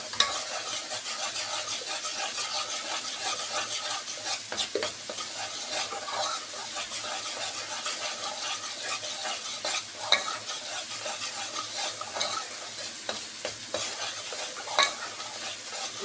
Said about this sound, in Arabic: قلبي الدقيق لحد ما ايه ريحة الدقيق كده تطلع